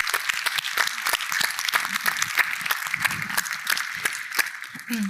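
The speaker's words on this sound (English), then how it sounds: "So please give Fong a round of applause." Audience applause for a retiring colleague at a CAISO symposium session, crisp individual claps from a modest crowd, fairly close and steady, with a voice briefly heard beneath.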